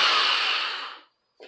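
A power drill fitted with a Phillips bit drives a 3/4 inch screw in one close whirring burst of about a second that winds down, followed by a short pause and a brief knock.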